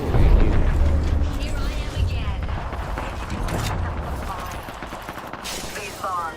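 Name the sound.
sniper gunfire in the video game Apex Legends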